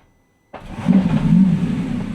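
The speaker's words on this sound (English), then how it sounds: "Got the engine started." Lamborghini Revuelto engine firing up after silence, a sudden crank catching into a deep, loud rumble that swells and then settles into a steady idle.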